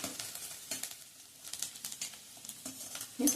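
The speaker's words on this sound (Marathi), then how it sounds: "कांदा छान परतला गेलाय, म्हणजे करपवायचा नाहीये" Chopped onion sautéing in a pan for a bread roll filling, a soft continuous sizzle with light stirring and scraping, faint and close, with no speech.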